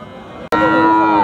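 A heifer moos loudly at a busy village cattle market before Eid, a sustained harmonic bellow starting after a brief pause and carrying on over faint crowd murmur.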